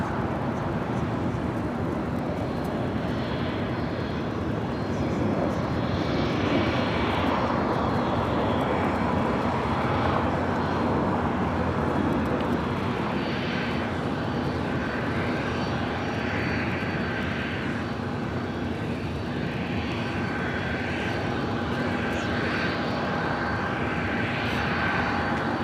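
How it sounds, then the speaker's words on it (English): A Boeing 777-200ER in oneworld livery on short final for runway 24 right at LAX, its engines a steady distant roar with a faint whine lasting the whole stretch, under occasional talk. "We have a 777 short final for 24 right. One world livery on the"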